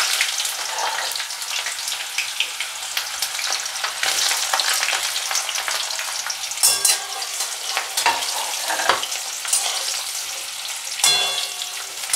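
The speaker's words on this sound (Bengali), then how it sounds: "আমি কড়াইতে তেল দিয়ে নিয়েছি, একটু বেশি তেলই দিতে হবে। এবার প্রথমে আমি পেঁয়াজগুলো ছেড়ে দেবো।" Onions fry in plenty of oil in a wok, producing a continuous loud, bright crackling sizzle with a few sharper bursts, close and steady, no voices.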